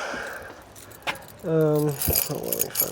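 House keys jangle in a rapid metallic rattle for about half a second, close to the microphone, while someone arriving home from work searches for them, with a voice talking around them and outdoor background noise.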